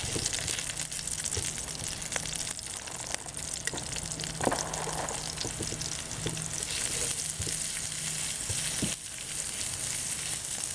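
Ginger hits a hot pan for shrimp with black bean sauce, producing a faint, continuous sizzle with a few light clicks and scrapes throughout.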